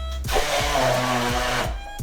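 A kitchen blender whirs loudly as it purées tomatoes and other ingredients for a Sri Lankan curry, with a steady roar that starts abruptly and then cuts off after about a second and a half.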